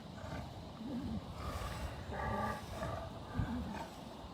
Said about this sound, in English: We're probably gonna get a real good roar here in a second.